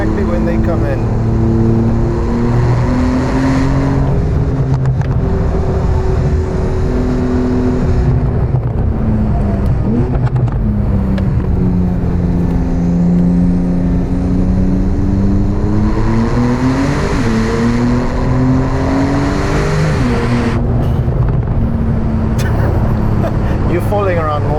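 A Techart GTstreet R Porsche engine roars under hard acceleration, its pitch climbing through rising revs with drops between gear changes, loud and close from inside the car, while people talk over it.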